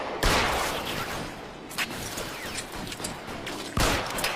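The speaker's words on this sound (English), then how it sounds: "the game descends into a bland, repetitive shootout" Gunfire rattles through a shootout in the sewers of the video game L.A. Noire, with sharp loud shots at the start and end over dense continuous firing and echoing crackle.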